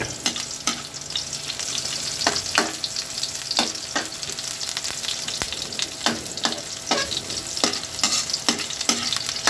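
Onion stirred while frying in a pan for coconut-milk shrimp with malunggay, a constant sizzle punctuated by many sharp scraping strokes of a spoon in an uneven rhythm, close and clear, no speech.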